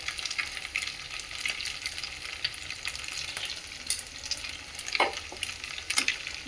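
Mixed vegetable soup with lemon juice is stirred in a pan: a steady hiss of cooking with spoon scrapes and clinks that stand out near the end. No voices.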